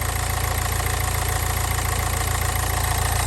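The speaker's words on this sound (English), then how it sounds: "As alright as a diesel would sound." A Nissan Juke diesel engine idles close by with a steady, rough low-pitched clatter and rhythmic knocking, unchanging throughout.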